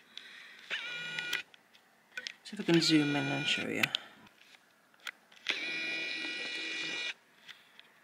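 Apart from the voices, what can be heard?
malfunctioning printer running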